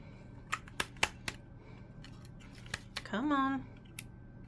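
Scissors snip through textured cardstock for a pumpkin card in a few sharp, quiet cuts spaced across the clip, with a short spoken word partway through.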